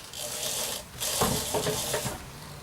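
A wood lathe spins at about 1200 RPM, giving a steady, fairly loud whirring hum that dips briefly early on and then runs on evenly.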